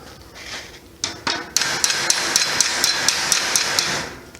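A hammer taps a metal clamp in a quick, even series of sharp ringing strikes, preceded by a few separate knocks, close and fairly loud.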